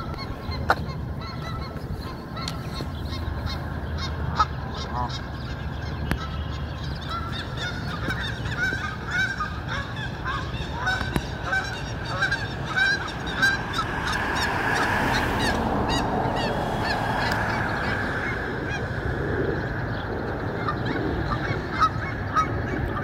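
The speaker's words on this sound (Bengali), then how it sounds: "ওই যে রাজহাঁসের ডাক শোনা যাচ্ছে।" Two adult geese with three goslings foraging in a field give a long run of nasal honks, some loud and near, others layered farther off, over a steady outdoor background without speech.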